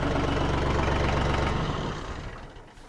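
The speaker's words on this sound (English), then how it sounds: "Let's just turn this tractor off." A Bad Boy 4025H tractor's engine idles loudly and steadily up close, then is switched off, its low rumble fading and sputtering to quiet over the last second.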